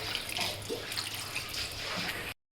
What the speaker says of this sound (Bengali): মশলার সাথে যে জলটা ছিল সেই জলটা প্রথমে দিয়ে দিলাম, তারপরে আরও একটু পরিষ্কার জল দিয়ে দেবো।